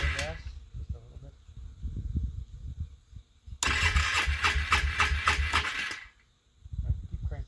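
A small engine on a cold start with half choke, cranking in bursts before a loud, dense run of about two and a half seconds that cuts off abruptly, then cranks again; people talk briefly around it.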